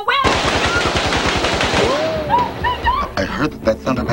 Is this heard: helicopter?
no